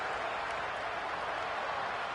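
A stadium crowd in a college football video game cheers and roars as a continuous, fairly faint wash of noise with no distinct peaks and no talk.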